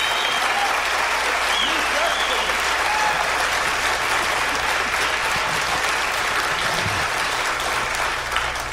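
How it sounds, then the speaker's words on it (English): A live audience at the Grand Ole Opry applauds the band on stage with sustained, loud clapping and some crowd noise, a voice talking over it near the end. "they'd clap loud for you"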